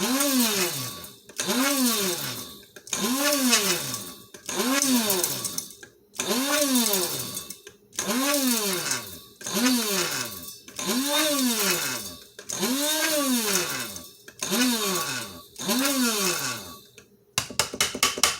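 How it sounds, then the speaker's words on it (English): A blender pulses peppercorns down to a coarse powder in roughly ten short bursts, each a rising-and-falling motor whine separated by brief pauses, loud and close with no talk over it. "I'm just gonna pulse until it sounds like there aren't any great big chunks of peppercorn anymore"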